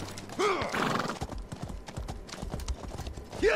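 Hooves clip-clop in a steady trot from a horse in The Elder Scrolls Online, close and crisp, with a whinny at the start and another at the very end.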